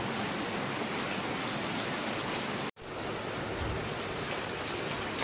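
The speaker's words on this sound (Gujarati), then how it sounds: "ફૂલ એકદમ ધોધમાર વરસાદ ગાજવાનું ભેગું ચાલુ હે" Heavy downpour over farmland, a dense, loud, continuous roar of rain with no clear thunder standing out, broken only by a momentary gap.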